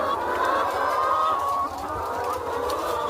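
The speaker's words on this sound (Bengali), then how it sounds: "সেই মুরগিগুলোকে নিয়ে ওজন দেওয়া হচ্ছে" Laying hens that have been in lay for sixteen months cluck and murmur continuously at close range while being weighed on a poultry farm, a steady, dense chorus of fowl calls without pause.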